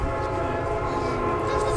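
Train horn sounding loud and sustained as a train passes near the Hudson River in Poughkeepsie, NY, during an outdoor wedding ceremony, with rumbling rail noise underneath throughout.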